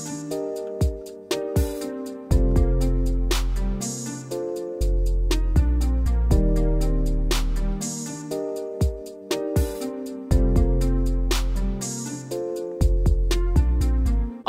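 A full hip-hop beat with a clean analog 808 bass plays on: deep sustained bass notes and punchy drum hits repeat in a steady looping rhythm with melodic layers above, loud and with no voices.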